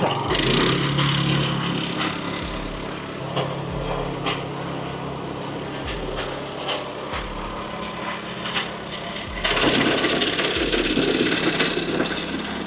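A small two-stroke engine on a new Arpal walking tractor idles and warms up with a steady buzzing drone, occasional thumps and knocks, and a louder surge toward the end.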